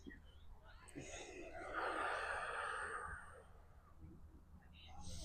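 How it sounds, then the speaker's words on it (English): Exaggerated deep breathing during a qigong exercise, a slow, drawn-out breath swelling to a peak in the middle and easing away, close and fairly soft, with no talk. "I'm going to exaggerate the breath for a couple."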